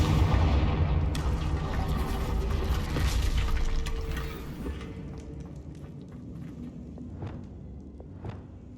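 A Confringo blasting spell in Hogwarts Legacy erupts in a loud booming burst with crackling debris, rumbling for a few seconds before fading into scattered fainter pops and clicks.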